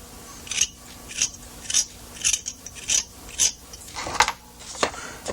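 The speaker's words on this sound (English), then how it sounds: "all you really need to do with this is scrape away the excess glue" A hobby knife scrapes excess glue from a plastic B-17 model wheel with a raised crosshatch pattern, making about seven short, dry rasping strokes in a steady rhythm, close and alone.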